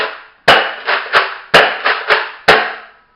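Nerf Rival Apollo XV-700 blaster firing rounds from a 12-round magazine, giving seven sharp, close snaps at an uneven pace, each followed by a brief rattle that fades before the next shot.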